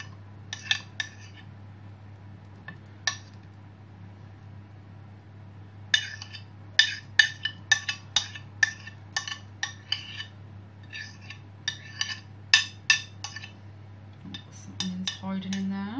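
Onions, spring onions and ham for a quiche are tipped into a dish. Sharp clinks of utensils and dishware come in scattered bursts over a low steady kitchen hum, with no talking.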